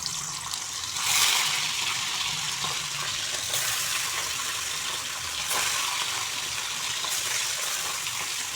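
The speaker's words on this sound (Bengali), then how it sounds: "এখন আমি সরিষার তেল দিয়ে মাছগুলো ফ্রাই করে নিচ্ছি" Puti fish fry in hot mustard oil in a wok, giving a steady, close sizzle with a brighter surge near the start and a few more swells, all without talk.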